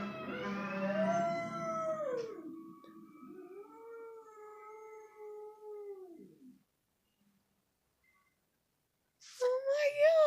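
A dog howls in long, wavering drawn-out tones for about six seconds, close and fairly loud, then falls silent before a final sharp, higher yelp-like cry.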